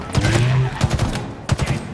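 Rapid weapon fire from the Sentinel beam in Halo Infinite, loud bursts of shots alongside a sustained tonal hum, with a brief pause before another volley.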